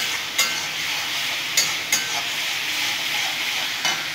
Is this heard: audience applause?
no